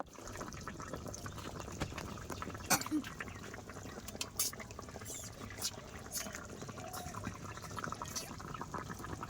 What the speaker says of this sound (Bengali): তরকারিটা ফুটে উঠেছে এবারে কিন্তু তরকারির মধ্যে মাছ দেওয়া হচ্ছে